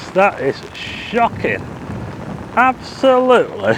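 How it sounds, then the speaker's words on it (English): Heavy rain pours down on Blackpool Promenade on the last day of 2023, a steady wash of broadband hiss running beneath several short bursts of excited nearby talk. "Can you see the way the rain's coming down?"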